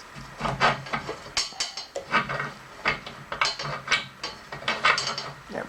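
Ratchet clicks in repeated short bursts while a nylon lock nut is tightened onto a bolt during an earth drill build, close and fairly loud, with no talking.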